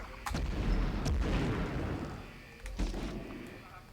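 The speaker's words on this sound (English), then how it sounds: "There's so many grenades" Heavy booming grenade explosions in the PS1 video game Medal of Honor, two large dense blasts with rumbling tails about two seconds apart, loud and close.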